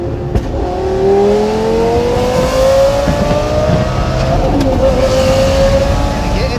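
Lamborghini Gallardo with a naturally aspirated V10 and aftermarket exhaust revs loudly nearby, its pitch climbing steadily across the clip with a rising wail and brief mechanical clatter.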